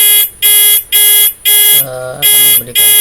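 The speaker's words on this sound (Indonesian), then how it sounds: "maka dia akan memberi notifikasi sebuah alarm" A home monitoring system alarm sounding loud and close in a repeating on-off pattern of shrill electronic tones, a brief lower-pitched tone breaking in near the middle.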